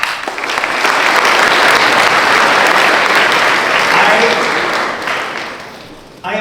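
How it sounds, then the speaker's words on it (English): A mayoral debate audience bursts into loud sustained applause that swells within the first second, stays dense and full, then fades near the end. "I give you a round of applause for pure magic"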